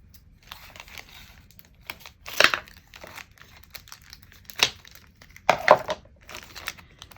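Plastic pencil packaging crinkles and rustles close by, with a few louder crackling tears as it is pulled and cut open.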